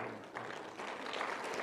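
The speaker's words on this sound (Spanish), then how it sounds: "Un aplauso más al Señor" A church congregation applauding at an evangelistic campaign gathering, a dense, steady wash of clapping that continues throughout at moderate volume with no pauses.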